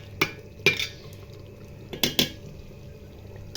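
Khichuri being stirred in a pot, a spoon scraping and knocking against the metal in a few separate clinks and scrapes, two close pairs of sharp contacts over a quiet kitchen background.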